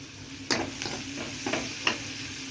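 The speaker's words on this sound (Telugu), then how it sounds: "ఫస్ట్ చికెను పసుపు సాల్ట్ వేసి మనం కొద్దిగా ఫ్రై చేసుకోవాలా" Chicken frying in a pan with turmeric and salt gives a steady close sizzle, broken by a few sharp scrapes and knocks of a stirring spoon.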